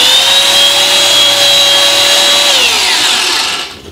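A tufting gun running, a loud, close mechanical buzz with a high steady whine that drops in pitch near the end before cutting off.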